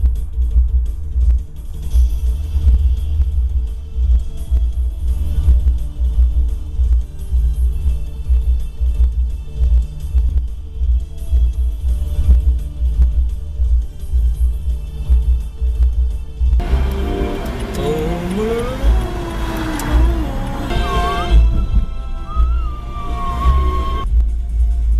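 A car driving along, a steady low engine rumble and road noise throughout, joined later by a voice and other sounds over the drone.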